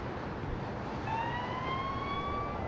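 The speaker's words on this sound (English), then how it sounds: "When you hear that ambulance wail," An ambulance siren wails over steady city traffic noise in Chicago, its rising tone sliding in partway through and holding loud and fairly near.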